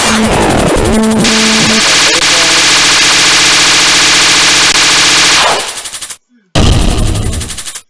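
Byakugan's unfocused spread shot fires in the Danmakufu bullet-hell game as a loud, dense stream of rapid shots for about five seconds, then cuts out briefly before another short burst.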